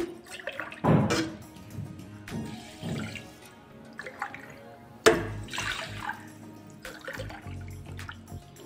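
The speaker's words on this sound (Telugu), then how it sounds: "వాటర్ పోసుకుందాం" Water splashes and pours in short bursts into a metal pot of rice, with clinking and dripping between the louder gushes.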